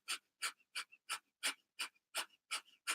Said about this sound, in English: and then just start pumping your breath